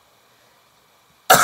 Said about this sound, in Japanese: 外が急に寒くなったので咳がね止まんなくて